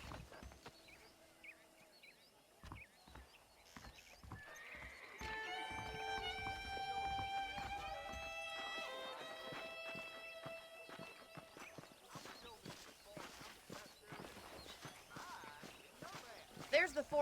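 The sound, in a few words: horses neighing and clip-clopping in the video game Red Dead Redemption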